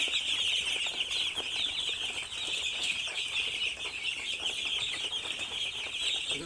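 Chickens raised in a netted shed during rain, with steady rustling and wing flapping plus occasional clucks over a constant high hiss.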